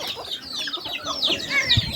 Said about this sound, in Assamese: লোকেল মুৰ্গী হয় সেয়া